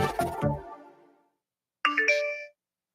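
A phone text-message notification chime rings out clearly in a short bright two-part tone after a softer, fading earlier tone, with silence between and no talking.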